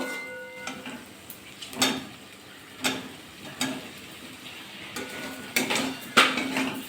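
Fried potato and pointed gourd are tossed into a pan of spices and mixed, with a spatula scraping and knocking against the metal pan in irregular, fairly quiet clinks and clatters.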